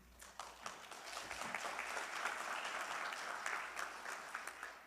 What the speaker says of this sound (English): join me in giving another round of applause for our 2025 entering classes